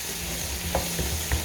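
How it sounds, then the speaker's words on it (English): Onions and mushrooms frying over a medium flame are stirred briefly, a soft steady sizzle with a couple of low scraping knocks from the spoon. "give that a little stir"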